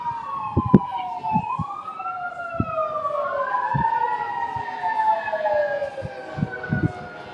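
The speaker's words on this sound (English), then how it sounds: "Still get a little nervous listening to sirens." Wailing sirens from emergency vehicles at a Labor Day parade in Trinidad, Colorado rise and fall in overlapping tones, fairly close, with scattered knocks and thumps underneath.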